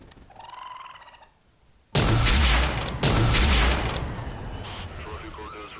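A heavy cannon blast in the dinosaur-hunting game Carnivores Divergent, a sudden loud boom followed by a second impact and a long rumbling decay, after a quieter stretch with a faint voice.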